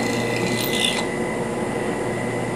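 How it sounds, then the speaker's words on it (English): A drill press at full speed makes a slow plunge cut through an aluminum piece, a steady rasping, grinding whir with a brighter scraping burst early on before it settles into an even mechanical drone. "We're going to first start by turning on the drill press, waiting until it gets up to speed fully, and then making a slow plunge cut through the middle of our piece"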